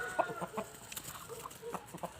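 Chickens, a hen with her chicks, clucking in short, close bursts, several quick clucks with small pauses between them and no voices over them.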